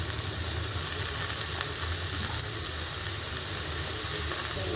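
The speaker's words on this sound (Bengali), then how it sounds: "এখন এই আলুগুলো দিয়ে দেবো। আলুগুলো একটু যেন হলুদ ভাজা হয়।" Potatoes frying with onions in a hot pan give a steady, close sizzle and hiss that never lets up, with no voices.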